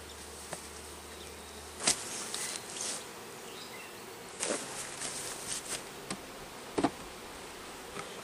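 Honey bees hum around package hives being split, a continuous close buzz with a few sharper taps and bumps scattered through it.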